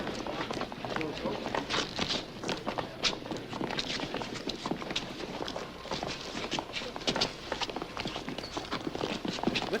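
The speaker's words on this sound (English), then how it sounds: "I hate this sound of everyone's footsteps" Busy footsteps of many people in the 1980 film Phobia, a dense, continuous patter of steps close by with mixed clatter, steady and loud throughout.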